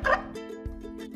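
A California sea lion on the coast gives one sharp, loud bark at the start, followed by a few softer, shorter calls over a low background hum in a brief moment.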